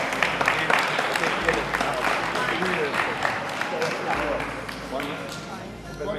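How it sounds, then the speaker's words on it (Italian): Audience applause at a taekwondo 40th-anniversary event in Orciano, a dense, steady clapping texture sustained throughout, fairly close and even in level, with some crowd voices mixed in. "Buon applauso per i maestri. Applausi."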